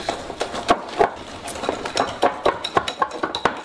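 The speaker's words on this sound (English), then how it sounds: "You go ahead with your small whisk there." A small kitchen whisk clinks rapidly against a bowl during holiday baking, a close, uneven run of metallic taps and scrapes with no one talking over it.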